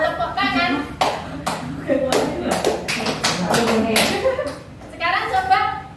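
A group of people clapping hands together during an in-person community learning seminar, a short burst of loud, irregular claps mixed with background chatter and voices.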